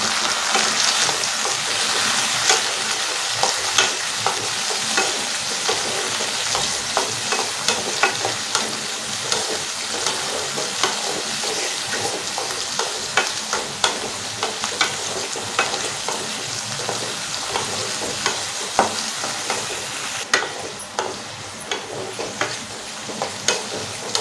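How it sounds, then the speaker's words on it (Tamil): Tomatoes, garlic and small onions sauté in a pan for a Tamil-style garlic kulambu. They give off a steady, close sizzle with frequent small scraping ticks of stirring throughout, and no talking. "தக்காளி பார்த்திங்கன்னா நல்லா வதங்கி வரணும்."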